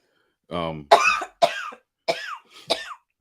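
A woman coughs several times in quick succession, close and fairly loud, with short pauses between the hacking bursts and a brief voiced sound at the start.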